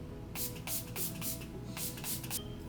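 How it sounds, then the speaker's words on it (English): Milani Make It Last setting spray from a fresh bottle hisses out in several short pumped bursts, with brief pauses between the sprays, up close and alone. "I like to take my Milani Make It Last setting spray and just first, like, this is a fresh bottle, get it going"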